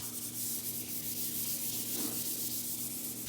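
Hand sanding of wooden furniture with a sanding sponge, a continuous soft rhythmic scratchy rubbing at close range, quiet and steady with no voices.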